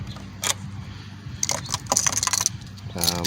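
A storage compartment on a 2020 BMW R1250GS Adventure motorcycle being locked: a few metallic key jingles and clicking latch sounds, close and moderately loud, with a short voiced sound at the end.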